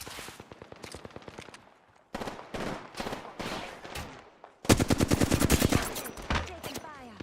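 Bursts of video game gunfire in rapid, crackling volleys, including automatic fire, separated by brief pauses and growing louder and denser toward the end.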